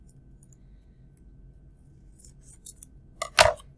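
Scissors snip through paper during a math lesson on measuring negative numbers, giving one sharp, close cut near the end after soft rustling and quiet room noise.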